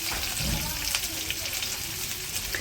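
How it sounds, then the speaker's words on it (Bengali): Onions sizzle and crackle in a hot pan, a soft continuous frying hiss with a few small pops and stirring sounds, heard close at a low level. "এখন হচ্ছে পেঁয়াজগুলো হালকা ভাজে নিব।"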